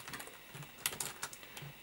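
A computer keyboard is typed on in a short, quiet burst of uneven keystrokes, soft and close, while a terminal command is entered.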